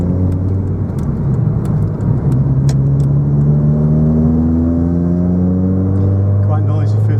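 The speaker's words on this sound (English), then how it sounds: "Quite noisy through the exhaust." A 2000 Ford Puma Racing drives along with its noisy exhaust droning loudly and constantly, the engine note rising smoothly through the revs, with a few faint clicks above it.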